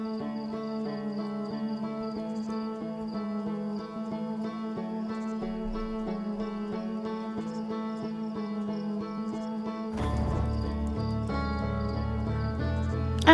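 Crickets chirp steadily in the video game Outer Wilds, a continuous insect trill layered under sustained game music, with a louder burst of sound near the end.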